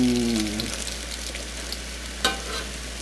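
Frybread sizzles in hot oil with a steady, close crackle over a low hum. A brief, sharper pop breaks through partway.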